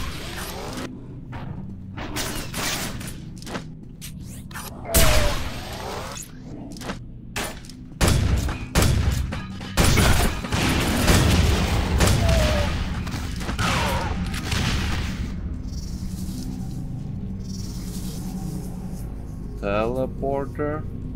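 Quake 4 weapon fire during a first-person shooter firefight, with bursts of sharp shots and booms over a mechanical hum, loudest mid-stretch, while someone talks over the action.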